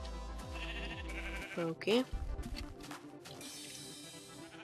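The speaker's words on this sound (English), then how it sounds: "my mission is to kill the sheep." Sheep bleating in the video game Assassin's Creed: a short rising-and-falling bleat near the middle, loud over game music and effects, with a brief spoken word from a player.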